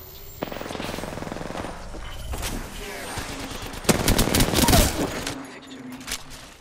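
Gunfire in the video game Apex Legends: sustained bursts of rapid shots, growing louder and denser near the middle, with voices heard briefly amid the firefight.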